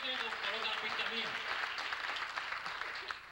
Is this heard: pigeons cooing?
no